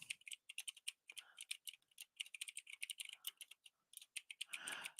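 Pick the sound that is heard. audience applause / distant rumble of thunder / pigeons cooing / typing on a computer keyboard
typing on a computer keyboard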